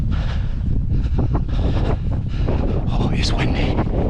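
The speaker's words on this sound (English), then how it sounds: "Oh, it's windy." Heavy wind buffets the microphone in continuous loud gusts, with a voice faintly speaking underneath.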